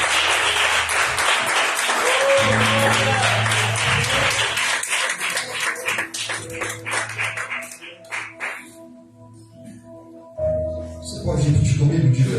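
Church congregation clapping loudly and steadily at a Sunday service, with a low voice and a dog-like sharp sound mixed in, then the clapping thins into a quieter stretch before swelling again near the end.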